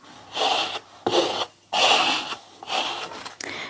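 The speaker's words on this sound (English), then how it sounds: "if you want to take out as much wrinkles as you can take something like this, a scraper" A scraper drawn across a napkin laid on canvas to smooth out wrinkles, four close rubbing strokes of about half a second each, separated by short pauses.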